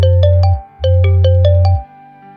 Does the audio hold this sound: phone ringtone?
yes